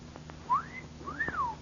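A person whistles two rising-and-falling notes, a short upward slide then a longer arching tone, clear and close against a faint hiss from an old time radio show recording.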